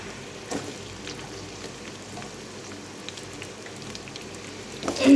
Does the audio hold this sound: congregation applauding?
no